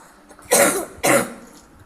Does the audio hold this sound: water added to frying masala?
no